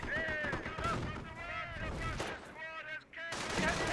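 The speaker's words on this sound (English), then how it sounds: "MG42 hitting the Greyhound" Machine gun fire in the World War II strategy game Company of Heroes, an MG42 firing on an armored car: rapid bursts of shots mixed with explosions, loud and layered, with someone talking over the game sounds.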